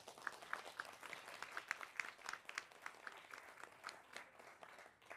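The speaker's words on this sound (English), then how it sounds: "Please give us a big round of applause" An audience welcoming a speaker with applause, a fairly faint, steady patter of many hands clapping at some distance, thinning out toward the end.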